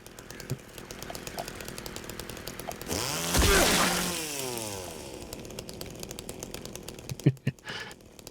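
Chainsaw in the horror video game Silent Hill 2, revving up into a loud rising snarl that peaks and winds back down, with a few sharp thuds near the end.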